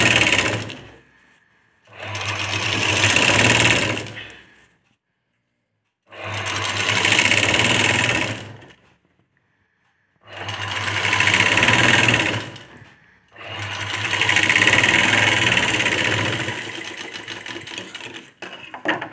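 A sewing machine stitching a straight line on a fabric sleeve, running in four steady whirring bursts of a few seconds each, separated by short silent pauses.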